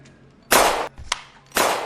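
Two sharp, loud broadband bursts about a second apart, with a brief metallic click between them, like gunshots in a quiet room.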